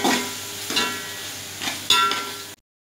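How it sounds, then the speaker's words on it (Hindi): Carrots sautéing in a pan, a steady close sizzle broken by several stirring scrapes, then cutting off abruptly into silence near the end. "गाजरें थोड़ी सी सख्त होती हैं, सबसे पहले हम इसको सोते करेंगे"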